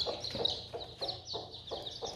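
Chickens kept inside a house give soft, low clucks in a loose repeating rhythm, faint and close, with no talking.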